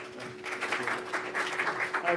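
Audience clapping at a fintech event as a speaker is welcomed, moderately loud and steady across the room, with some chatter mixed in.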